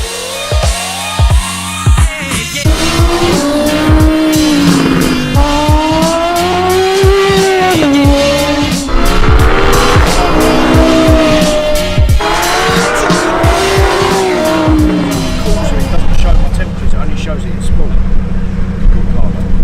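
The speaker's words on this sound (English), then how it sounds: "we're gonna take you guys along for the very first drive at Anglesey in the new GT3" Porsche GT3 race car driving at Anglesey circuit, its engine rising and falling in pitch through gear changes with tyre squeal, loud and close, while people talk over it.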